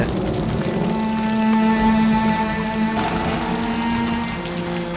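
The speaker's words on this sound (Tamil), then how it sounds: "18வது நாள் மழை இன்னும் விடாம பெஞ்சுக்கிட்டே இருக்கு." Steady, dense hiss of heavy rain pouring continuously, with a faint low hum running underneath throughout.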